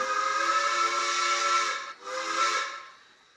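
A model steam locomotive's TCS sound decoder whistle gives a long breathy blast, breaks off, then sounds a second shorter blast that fades out with a soft hiss.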